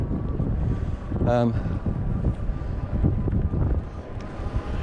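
Gusty wind buffets the microphone beside a busy waterway near Dover, a steady broadband rumble running throughout with a brief tonal whistle or horn-like sound near the start, no clear speech.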